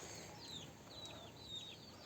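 Chickens clucking softly at a distance on a farm on a rainy morning as they settle for the night, a few repeated short calls over steady background hiss.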